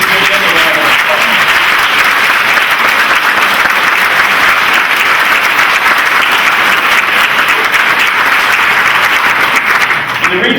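Loud, sustained applause from a large college audience clapping for IT staff who have stood up, continuous and dense throughout.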